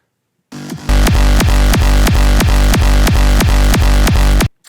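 Repeated hardcore kick drum hits through a volume shaper in a steady rhythm, only the tail without attack, each a soft noisy swell, about eight beats close and loud.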